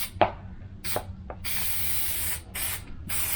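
Spray adhesive hisses onto a carpet-lined van panel in short close bursts, first brief puffs and then longer sustained sprays separated by pauses.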